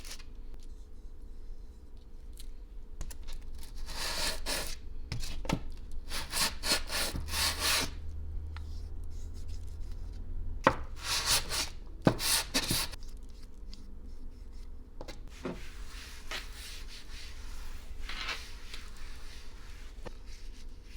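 Wet sanding of a resin terrazzo dish: repeated bursts of gritty rubbing and scraping, close and steady, in rhythmic strokes separated by short pauses, with a low hum underneath.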